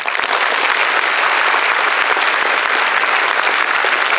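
An audience at a school quiz event applauds loudly and steadily, a dense wash of clapping hands that holds at a constant level throughout.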